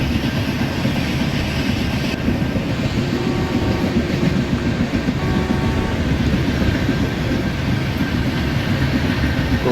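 WDP4 diesel locomotive from the Indian Train Simulator game running steadily, with a dense continuous rumble of engine and rolling wheels and faint rail clatter throughout.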